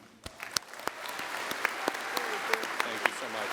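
Scattered applause rises from a convention audience at a DAV business session, individual claps popping irregularly and building into a thicker, moderate patter, with some murmuring voices underneath.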